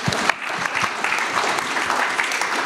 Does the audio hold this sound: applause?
yes